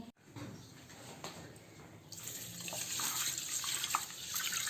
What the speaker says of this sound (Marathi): सुरुवातीला तांदूळ स्वच्छ धुवून घ्या.